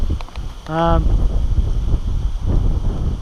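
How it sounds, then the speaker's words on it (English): Gusty wind buffets the microphone outdoors near Monga, NSW, Australia, with a low rumbling roar, and a brief tonal beep sounds early on. "It's a bit windy today."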